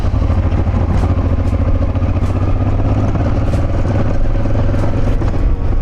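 A motorcycle rides along a gravel road, its engine a loud, constant drone close up, with faint crunching and clatter underneath and no talk.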